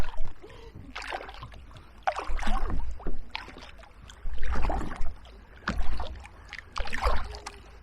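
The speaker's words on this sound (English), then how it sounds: "a day out on the paddle" Canoe paddles dipping and pulling through the water of the River Stour in Kent, a series of close, rhythmic splashes and gurgles recurring roughly every second or two with faint background ambience.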